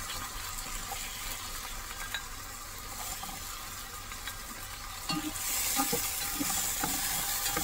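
Pumpkin slices coated in gram flour batter fry in hot oil with a steady bright sizzle that swells louder partway through, alongside occasional light clinks.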